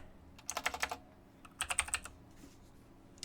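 Two quick bursts of clicky keystrokes on a computer keyboard, close and crisp, separated by a short pause, over a quiet room hum with no voices.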